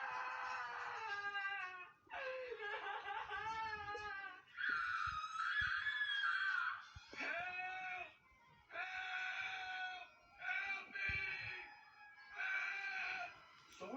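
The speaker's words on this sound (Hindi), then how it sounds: "ये तो गुल्ली की चिल्लाने की आवाज है।" A character screams and shrieks in an animated Hindi horror story about a witch, a long series of high, wavering cries with brief pauses over about fourteen seconds, loud and close.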